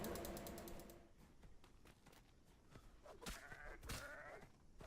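Sheep bleats in the survival video game Atlas, faint and brief amid clanking, mechanical game sounds and soft thuds, with no talking.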